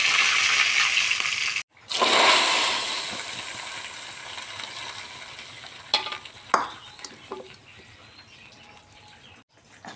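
Mustard seeds and dried red chillies hit hot oil for rasam, giving a loud hissing sizzle after a brief gap that slowly fades, followed by a few utensil clinks and taps.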